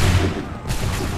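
Massed musket volley gunfire in the Assassin's Creed 3 video game, a loud, dense rolling burst of shots that booms and fills the whole moment.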